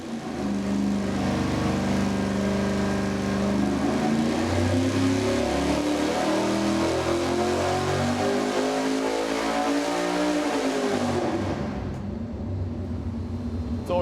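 An engine on a dynamometer revs hard and steadily as it sweeps up at 600 RPM per second, a loud continuous zinging roar rising in pitch for about eleven seconds before cutting off abruptly.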